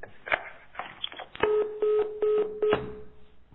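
Series of telephone line tones on an incoming call during an Italian call-in broadcast: steady electronic beeps repeat in a regular rhythm, about four evenly spaced pulses, loud and close, with brief clicks and line noise before them and no talking.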